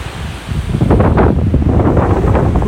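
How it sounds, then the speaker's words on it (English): Strong wind gusting across an open beach in North Naples, Florida on a clear morning, a steady loud roar buffeting the microphone with rushing surf beneath, building after the first half second and holding. "Ooh, listen to that wind."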